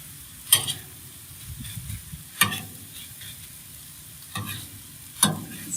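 A metal spatula chops cheese into cheesesteak meat on a Blackstone griddle, with four sharp scraping clacks spaced a second or two apart over a steady low sizzle.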